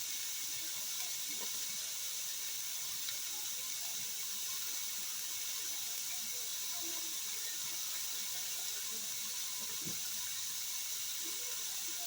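Tap water runs steadily into a sink while hands are washed before seasoning food in a home kitchen, a constant broad hiss with faint knocks and splashes, no talking.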